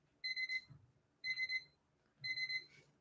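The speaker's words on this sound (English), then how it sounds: "You hear that timer, Mrs. Plata?" An auction countdown timer alarm sounds three times, each a bright electronic beeping burst of rapid pulses, with short gaps between the bursts and nobody speaking.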